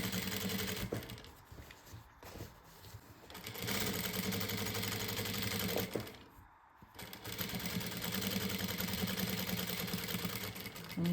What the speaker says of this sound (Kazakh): тігіп жібердік